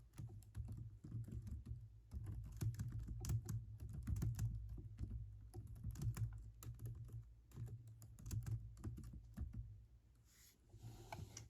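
Steady typing on a computer keyboard, a continuous run of quick close clicks and key taps that eases off near the end, with no talking.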